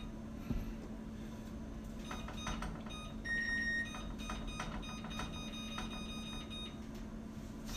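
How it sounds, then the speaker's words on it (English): An oven's kitchen timer is set with a series of short electronic beeps, including one longer tone, sounding at close range over a low steady hum in a kitchen. "We're going to set our timer."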